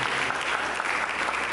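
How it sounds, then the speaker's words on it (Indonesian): Steady applause from a church congregation, many hands clapping together in a dense, continuous patter at moderate loudness, with no break through the short stretch. "Mari kita berikan tepuk tangan bagi"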